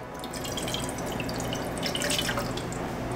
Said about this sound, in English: 2 cups of water going in.